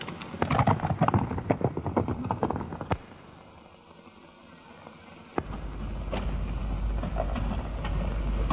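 Horses gallop in a 1931 western chase, a loud run of rhythmic hoofbeats followed by a brief lull and then a steady rumbling rush.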